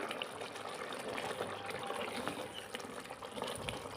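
Quiet, steady sound of hot water being poured, a soft continuous trickle and splash into a pot of chicken curry.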